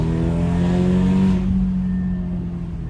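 An Audi S3 with an AWE aftermarket exhaust revs loudly with a deep, throaty exhaust note, then eases off into a lower idle burble.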